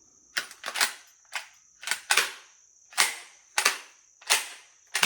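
A Panzer Arms Turknelli shotgun fires shells in a rapid string of about eight sharp, loud reports, each with a short ringing tail, while a steady high whine runs underneath.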